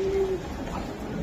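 A pair of racer pigeons gives a single short, low coo up close at the start, followed by a soft, steady background murmur.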